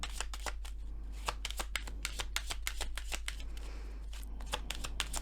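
Tarot cards being shuffled by hand at a fortune-reading session, a rapid flurry of crisp riffling snaps close up, continuous throughout over a low steady hum, with no talk.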